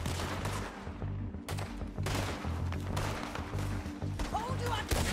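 Video game gunfire, dense and loud, with repeated shots and impacts over a low rumbling background score, continuous throughout.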